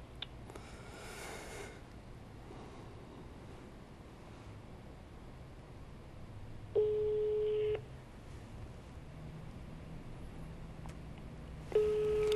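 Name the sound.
telephone call tone to an unavailable number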